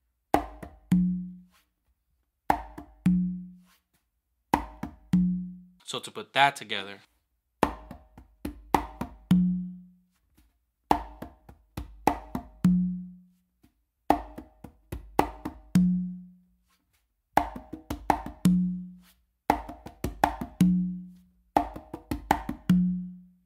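A caballo pattern on conga and tumba, with fingers, open tones and sharp slaps repeating in galloping phrases separated by short pauses, close and clear, with a brief spoken remark partway through.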